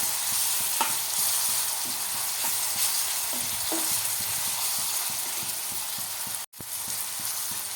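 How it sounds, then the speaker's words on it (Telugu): Curry leaves dropped into hot oil for a Godavari-style country chicken curry, a dense continuous sizzle and spatter with occasional stirring scrapes, close and loud throughout. "ఆయిల్లో కాస్త కరివేపాకు వేస్తున్నానండి ఇందులో కలుపుదాము"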